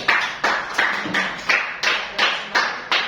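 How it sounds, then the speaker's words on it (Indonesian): Classroom applause: a short series of about nine evenly spaced, crisp claps, each sharp hit followed by a brief decay, with no talking over them. "Kita beri aplaus dulu."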